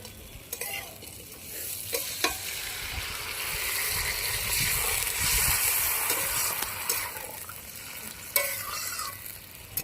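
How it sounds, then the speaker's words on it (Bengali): Cauliflower and potatoes frying in a pan hiss and sizzle steadily as water is added, with the sizzle swelling in the middle and a few sharp utensil clicks and scrapes through the steady crackle. "ফুলকপি আলুটা কষানো হয়ে গেছে এবার জল দিয়ে দেবো"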